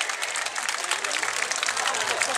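Applause from a Yosakoi festival audience, a dense, steady patter of many hands clapping at moderate distance, with an announcer's voice over it.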